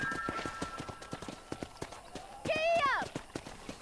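Horse hooves clip-clopping at a steady pace in Red Dead Redemption on a farm near a cow pen, a rhythmic series of close thuds, with a horse's whinny midway and a voice speaking over it.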